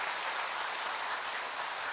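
A congregation at a church revival meeting claps together in a brief, steady burst of dense applause.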